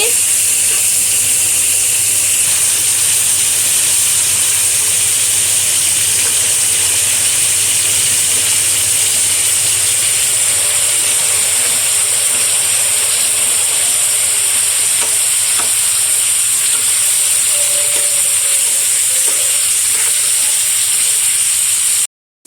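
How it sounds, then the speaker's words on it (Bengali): Chicken pieces fry in hot oil for a chicken biryani, giving a loud, steady sizzle with bubbling and occasional stirring that runs unbroken until a sudden stop at the end. "মুরগিটাকে আমরা ভেজে নিচ্ছি"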